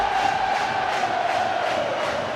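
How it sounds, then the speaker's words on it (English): Warrington rugby league fans roar and sing together in the stadium, a dense, sustained crowd chant with a sung tone rising over the noise, loud and distant-sounding. "All of a sudden, this crowd has erupted, and it's the Warrington fans that are singing now."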